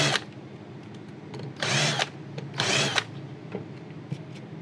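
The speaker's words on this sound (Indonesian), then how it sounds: "Kita buat lubang sedikit untuk kepala bautnya." A power drill bores a small recess for a bolt head while building a homemade PCB board clamp, with two short loud whirring bursts of about a second each, close by, amid quiet handling noise.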